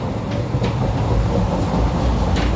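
A long passenger train rolls past in India, its steady rumble and rhythmic wheel clatter loud and close throughout, with no voices.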